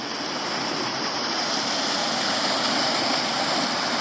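Leeaberra Falls, an unusually shaped waterfall, makes a steady, unbroken broadband rush of falling water with no other sounds and no voices.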